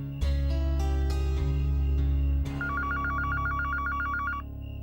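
A telephone rings nearby in a household drama scene: a few sustained tones are followed by a steady, rapid pulsing bell trill that repeats evenly for about two seconds, loud and alone with no voices.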